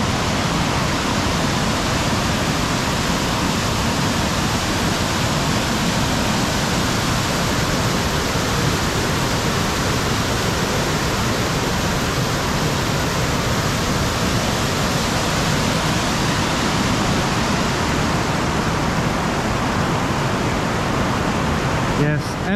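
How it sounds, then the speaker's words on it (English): A small river rushes steadily below the falls at the Patriarchs in Zion National Park, a dense, even wash of flowing water that stays loud and unbroken with no voices over it. "Nice little river going down here."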